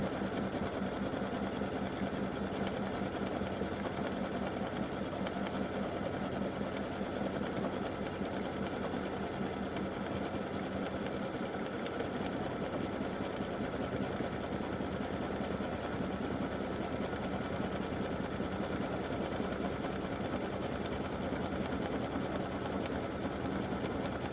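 A sewing machine stitches free-standing lace earrings with a continuous, even mechanical whirr that holds steady throughout without pauses.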